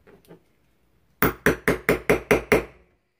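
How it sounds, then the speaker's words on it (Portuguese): A small hammer strikes seven quick, evenly spaced taps to open a hole for a rivet in a textured bag, crisp and close after a couple of faint knocks. "Pego aqui o martelinho"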